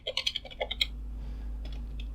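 Keys clatter in a quick burst on a computer keyboard as a Linux command is entered, several crisp taps close together for under a second, then stopping, leaving a low steady hum with a faint click or two.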